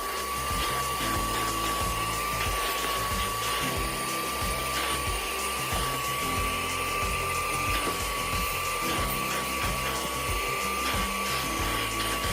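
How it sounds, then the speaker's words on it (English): A steady high-pitched motor whine runs continuously, with a rough scrubbing texture underneath, as a drill brush agitates a stain on the carpet of a BMW X5. "I'm going to agitate with my drill brush"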